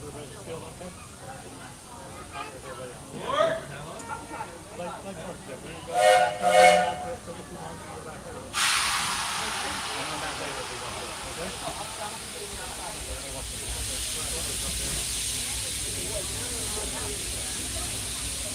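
Steam train at a theme park, Magic Kingdom at Walt Disney World, departing with short sharp whistle blasts followed by a sudden sustained loud hiss of steam that continues to the end, with faint background noise throughout.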